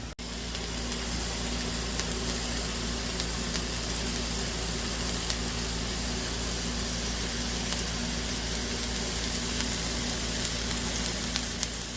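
Burgers fry on a griddle with a steady, loud, close sizzle that stays unbroken and even throughout, with no one speaking.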